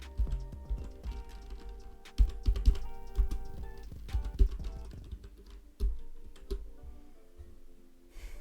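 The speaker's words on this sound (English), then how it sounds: "then I'll type here" Rapid typing on a computer keyboard while entering banner text in Microsoft Publisher, a close run of uneven key clicks with brief pauses and heavier thuds. No speech is heard.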